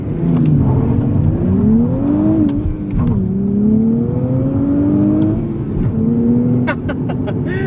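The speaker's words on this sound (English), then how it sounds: "So I'm gonna do a 0 to 60 launch control, and it's gonna help me out mitigating wheel spin to give me the best launch possible." A 2023 Nissan Z makes a 0 to 60 launch-control run, the engine surging and rising through several gear changes with brief dips between pulls, loud and close, followed by a few quick clicks near the end.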